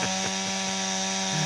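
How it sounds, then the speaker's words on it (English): Chainsaw cutting through a dead fallen widowmaker tree, a loud close buzzing whine that dips briefly under load as the chain bites, steady across a short burst. "the chainsaw cuts through this tree like it is a hot knife going through butter"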